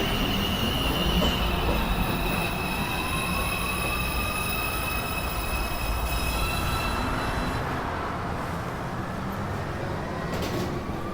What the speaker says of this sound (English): Is uptown express 2 train Rector Street. approaching the station.